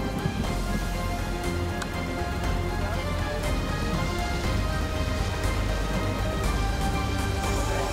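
Steady, dense rain hisses continuously at the Spa 24 Hours race, with a low rumbling background and no voices.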